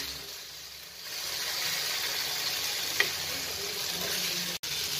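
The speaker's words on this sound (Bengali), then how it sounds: "2 মিনিট পর আবার এটাকে নেড়ে দিচ্ছি" Food frying in a pan, a steady close sizzle that runs throughout with a brief scrape of stirring near the middle and a short dropout near the end.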